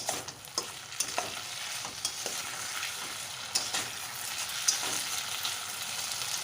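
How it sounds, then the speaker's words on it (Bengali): Chopped tomato stirred into a thin mourola fish curry with potato in a frying pan: a steady sizzle with repeated spatula scrapes and taps against the pan, close up and with no voices. "একটা টমেটো কুচি এর মধ্যে আমি দিয়ে দেবো কিছুক্ষণ ধরে একটু নেড়ে চেড়ে নেবো"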